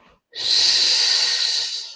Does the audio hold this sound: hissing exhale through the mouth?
yes